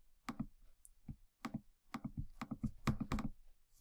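Computer mouse clicking away during image editing in Photopea, close and dry: bursts of quick clicks, singles and doubles, in an irregular rhythm with short pauses between.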